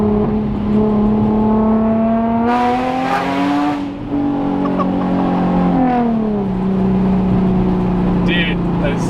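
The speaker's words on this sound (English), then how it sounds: "it sounds so good with test pipes" A Nissan 350Z with test pipes revs loudly close by, pitch climbing and falling in smooth sweeps over a rough, raspy exhaust tone.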